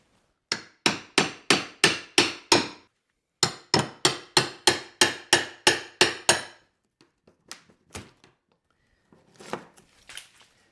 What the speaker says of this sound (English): I'm just going to get behind this drywall and start to pull it off and see what happens